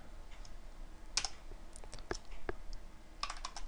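Quiet keyboard typing while writing code, a few scattered soft key clicks and taps at close range with a short flurry toward the end.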